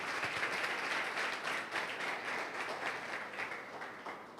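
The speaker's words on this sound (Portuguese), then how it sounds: "Pode aplaudir o Senhor Jesus." Applause from a church congregation during a sermon, a steady dense wash of many hands clapping that fills the space evenly, with no pause and only a slight fade toward the end.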